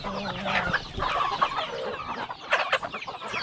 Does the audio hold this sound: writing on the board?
no